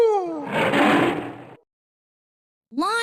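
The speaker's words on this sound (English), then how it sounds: "Tiger." A tiger gives one loud, rough roar that falls in pitch and lasts over a second. Silence follows, then another growling call starts near the end.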